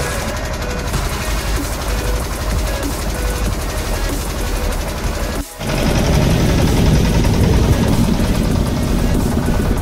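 A public ferry boat's engine runs loud and steady on the Sharavati backwaters, cutting out abruptly for a moment before roaring back at full strength.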